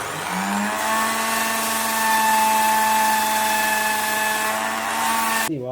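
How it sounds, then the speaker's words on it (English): A wood lathe spins a handmade wooden wand while 120 grit sandpaper is held against it, giving a steady, loud motor whine with a constant hum and faint abrasive hiss that stops abruptly at the end. "So I've got some 120 grit sandpaper here, and I've just been sanding it in this direction."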